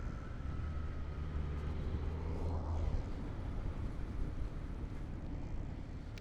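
A 2020 Kawasaki Z900 motorcycle cruises on a Mumbai road, its smooth steady engine drone buried in heavy wind rush and road noise, with no voices.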